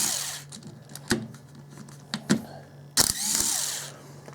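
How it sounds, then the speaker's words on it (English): Compact impact driver backing small T15 screws out of the casing of a Dremel SM20 SawMax worm drive saw during a teardown, giving a few short sharp bursts and clicks over a quiet, close workbench background. "Super fast for getting these screws out, and it's not as big and heavy and bulky as other impact drivers."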